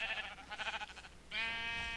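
Sheep bleat on a farm in a hardcore survival video game, with a few quick bleats up front and then one long, clear, sustained bleat close by, no talking.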